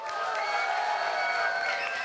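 Audience at a London startup pitch challenge gives a loud, dense wall of cheering and whooping with clapping, steady throughout with no pauses, voting by noise for a finalist.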